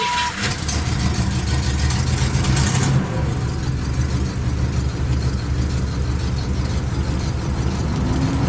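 A car's blower motor runs steadily, pushing air-conditioning air in a continuous whooshing drone with a low engine hum beneath, holding at a constant level throughout.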